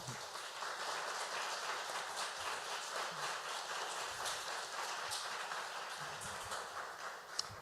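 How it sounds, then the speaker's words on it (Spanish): An audience at an academic panel discussion gives steady, dense applause, a continuous patter of many hands clapping at moderate distance with no speech. "pues les pido un fuerte aplauso"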